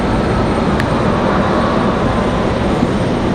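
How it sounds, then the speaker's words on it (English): A Delta CRJ regional jet departing Raleigh Durham airport makes a steady, loud broadband engine roar that holds evenly throughout, with no voices. "Got a Delta CRJ on the way out."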